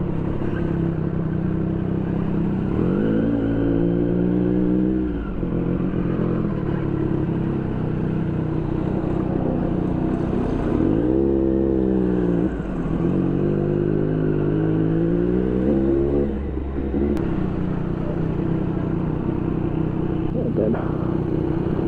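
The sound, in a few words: Triumph Street Triple RS motorcycle riding in NYC traffic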